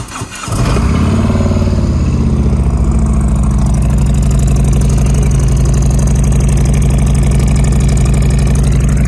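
A Harley-Davidson motorcycle with about 35,000 miles and baffles still in the pipe starts up and settles into a loud, steady, throbbing idle.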